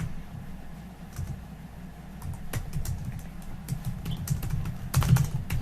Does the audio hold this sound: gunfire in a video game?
no